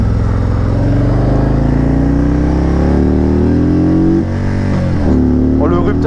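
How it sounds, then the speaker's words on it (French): A 400 kg motorcycle accelerates hard, its engine note rising steadily and loudly before the rev limiter cuts in near the end with stuttering breaks in power. "là je vais taper une accélération mais comme t'as jamais vu de toute ta vie."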